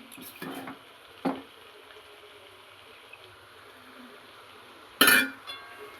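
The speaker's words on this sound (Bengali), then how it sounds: "ভাত দিয়ে আবারও একটু নেড়ে নিলাম।" Fried rice with vegetables is stirred in a pan, producing a few sharp, separate clanks and scrapes of a utensil against metal over a quiet, faint background.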